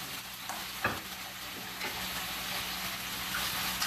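Chopped onion and leftover oil fry and sizzle in a small pan for a Rio-style feijoada, a steady hiss with a few soft stirring scrapes and clinks, close by and without talk.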